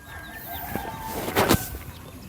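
Chickens cluck at a coop in a mountain village, a few short calls rising briefly above a quiet outdoor background.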